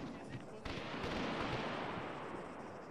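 Gunfire in the military shooter Arma 3, a dense, rumbling stretch of distant shots and booms blending into a continuous roar, with voices talking over it.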